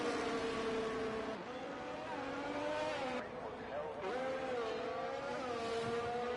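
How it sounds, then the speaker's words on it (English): Ferrari and McLaren race cars pulling out onto the track in a racing game, engine notes droning and rising steadily in the background under continuous commentary. "we have a Ferrari and the two McLarens straight out on track"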